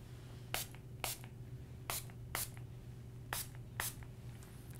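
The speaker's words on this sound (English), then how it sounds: "I've got a little spray bottle here with water" A small spray bottle misting water onto a capacitive touch panel overlay: six short, sharp hissing spritzes spaced about half a second to a second apart, close up over a low steady electrical hum.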